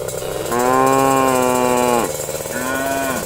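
An animated cow moos twice at Eid al-Adha in a story about a qurban cow seller: a long, loud, close moo, then a shorter second one after a brief pause.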